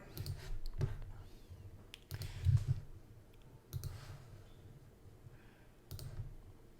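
Shortcut keys tapped on a computer keyboard while modelling a single hung window family in design software, a few quick close clicks in short bursts spread over several seconds against a quiet room hum.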